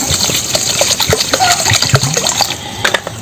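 Water poured from a bowl onto sugar and four cardamom pods to start syrup for moong dal jalebi, a steady close gushing splash running the whole time with small clinks and knocks.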